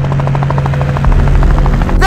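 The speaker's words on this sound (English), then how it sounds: "It sounds like a helicopter." A helicopter in a LEGO Ninjago animated episode: loud, close rotor chopping in a fast regular pulse over a steady low engine hum, swelling in the low end as it approaches, no speech.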